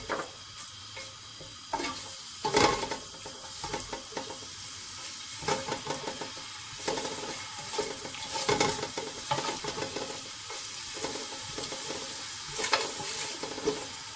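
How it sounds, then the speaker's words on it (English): Vegetables sauté with ginger garlic paste in a pan for restaurant-style vegetable biryani, giving a steady sizzle broken by repeated scraping stirs every few seconds, with no one talking. "Just saute this a bit. Add the ginger garlic paste."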